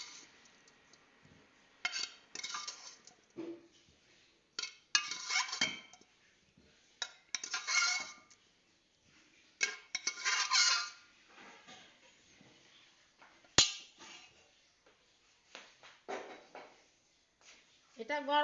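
Boiled jackfruit seeds are mashed hot in a bowl with ginger, garlic and chili, giving irregular bursts of scraping and knocking against the bowl, separated by short pauses, with a voice talking intermittently nearby.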